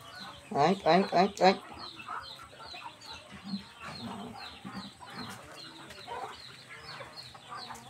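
Roosters and loose chickens on a farm with piglets nearby, a burst of loud close clucking calls followed by softer scattered clucks and background fowl sounds, with a person speaking among them.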